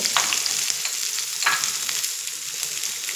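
Onions sizzling in hot oil with cumin seeds, a steady close fry with crackling bursts and stirring scrapes throughout, no voices.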